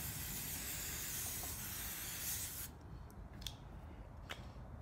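A steady aerosol hiss of hairspray runs for a couple of seconds, close and fairly loud, then stops, leaving faint clicks and quiet room noise.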